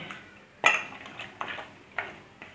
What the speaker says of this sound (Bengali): এক একটা আটি এবার সামান্য একটু জল দিয়ে নাড়াচাড়া করে নেব